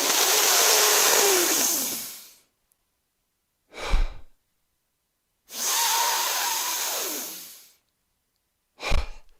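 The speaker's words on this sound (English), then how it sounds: "breathe in as strongly and as quickly as you possibly can through your nose" Two long, forceful rushes of air drawn in through the nose, each followed by a short, sharp exhale, with silence in between.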